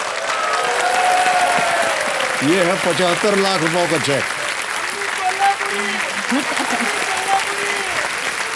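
A studio audience at a Hindi TV quiz show breaks into loud, sustained applause as a 75 lakh rupee cheque is handed over, with a host's voice speaking over the clapping.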